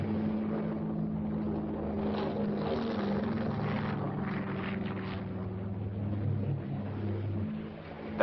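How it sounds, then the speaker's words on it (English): A military helicopter on ditch patrol in Korea, 1951, drones with a steady low rotor and engine hum throughout, sustained and fairly loud in an old film soundtrack. "That helicopter in the background is ditch patrol."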